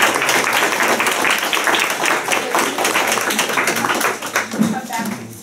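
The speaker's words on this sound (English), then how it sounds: "Let's give our panelists a round of applause for taking this part." A symposium audience applauds its panelists with a dense, continuous wash of clapping that stays loud throughout, with a voice briefly audible near the end.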